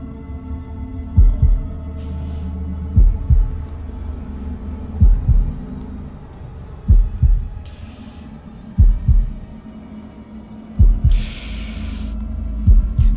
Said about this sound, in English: Oh, please don't be an heartbeat thing.